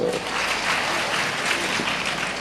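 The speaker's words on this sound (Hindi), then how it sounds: "ताली तो बजा दो" Audience clapping steadily through the whole stretch at a Jain religious discourse, a dense, even wash of applause from a seated crowd with no voice over it.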